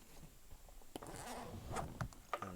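A zipper being drawn around a tennis ball launcher bag in a few quick, scratchy pulls, close and fairly quiet, with small handling noises between them and no talking.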